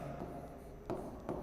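Writing on a board during a maths lesson, a few soft scratchy strokes and taps, faint and brief against quiet room noise.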